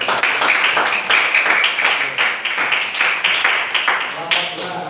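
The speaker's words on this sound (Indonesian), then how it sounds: "tepuk tangan untuk nomor 1 semuanya" Classroom applause, a group of students clapping for the first group, steady dense patter filling the whole stretch at close range with some voices mixed in.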